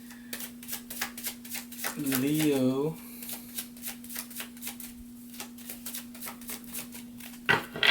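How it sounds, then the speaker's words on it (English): Tarot cards are shuffled by hand in quick riffling bursts beneath a speaking voice, with a steady low electrical hum in the background. "Let's get started with your shuffling"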